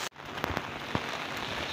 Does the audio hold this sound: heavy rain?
yes